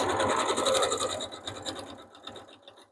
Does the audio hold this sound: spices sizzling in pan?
no